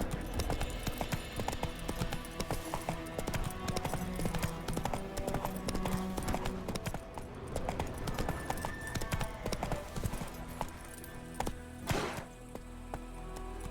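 Galloping horse hooves clip-clop steadily and fast through the open-world fantasy game The Witcher 3, a continuous rhythmic beat under game music and ambience, with a brief whinny-like accent near the end.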